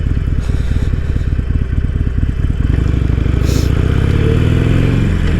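A 2020 Harley-Davidson Iron 883 Sportster is ridden on the road, its engine giving a loud, continuous, low rumble with a steady rhythmic throb that rises a little in pitch partway through.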